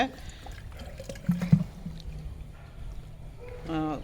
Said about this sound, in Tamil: கொஞ்சம் தண்ணி இருக்குது அதையும் ஊற்றிடுறாங்க